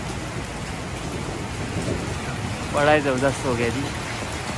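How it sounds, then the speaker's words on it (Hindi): Heavy rain pours steadily in a mountain village in Neelum Valley, Azad Kashmir, a constant broadband hiss with low rumbling thunder beneath; someone speaks briefly partway through. "फाइनली काफ़ी बारिश हुई है"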